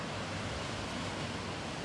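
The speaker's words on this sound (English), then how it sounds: "All right, waterfall number 3." Steady broadband rush of a waterfall tumbling into a gorge in Idaho, an even, unbroken roar with no pauses or talk.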